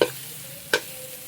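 Garlic sautéing in a pan until golden, a soft steady sizzle with a single short scrape of a utensil partway through, close and quiet, no voices.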